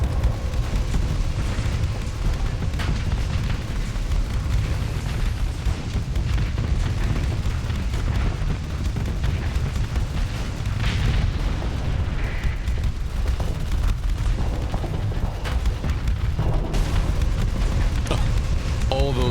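Missiles pound a video game battlefield in loud, overlapping explosive booms that roll on almost without pause, a thick low rumble with sharper bursts scattered throughout.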